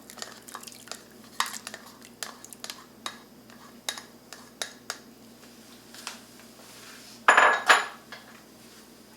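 A metal lid settles onto a pot of carrots boiling in chicken broth, a brief bright clang near the end after scattered light clinks of cookware in a quiet kitchen.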